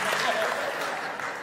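An audience claps in a brief, dense burst of steady applause at a live talk, with a speaker's voice over it.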